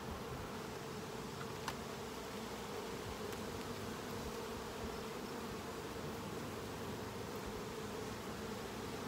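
Honeybees hum in a steady, continuous drone at an open hive during an inspection, a dense close buzz that stays even throughout with no voices.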